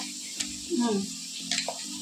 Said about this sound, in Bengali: মাছের ঝালের জন্য পেঁয়াজটা একটু বসলাম